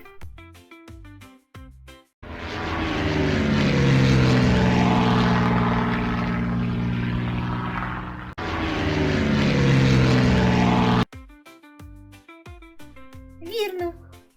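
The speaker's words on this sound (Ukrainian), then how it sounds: "Це літак." A propeller airplane drones loudly and steadily past, its engine tone shifting slightly, with brief gaps and children's voices before and after.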